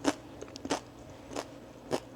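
Four separated crisp crunches from a hard taco shell being bitten and chewed, close and fairly quiet, spaced roughly half a second apart with soft mouth sounds between.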